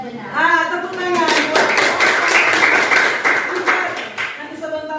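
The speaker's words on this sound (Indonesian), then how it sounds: "Tepuk tangan." Classroom of children clapping hands together, a dense burst of close clapping lasting a few seconds, with a teacher's voice before and young voices around it.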